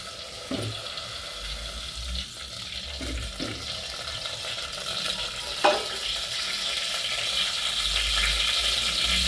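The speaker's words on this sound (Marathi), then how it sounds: "तेल टाकून घेते" Oil is poured into a pan for crab curry and sizzles with a steady hiss close by, with a few clinks and stirring scrapes and a sharper crackle partway through.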